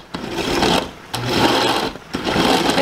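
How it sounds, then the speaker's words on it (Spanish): Blender whirring in three loud bursts as it purees taco sauce ingredients with cumin and beef bouillon, short pauses between each pulse and no talking. "Ahora vamos a licuar."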